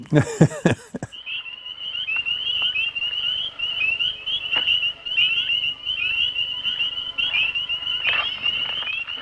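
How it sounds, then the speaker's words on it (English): Frogs croak and trill steadily in a film soundtrack, a dense chorus of high chirping calls running continuously after a few sharp opening thumps. "those frogs are actually on the voice tracks."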